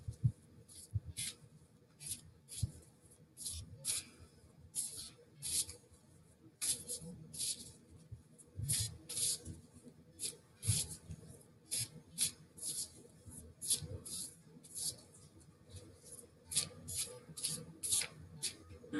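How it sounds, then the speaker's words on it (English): A deck of Whisper of Love oracle cards is shuffled by hand in a steady run of crisp riffling and sliding rustles, close and fairly quiet, with no talking. "as I shuffle the Whisper of Love cards"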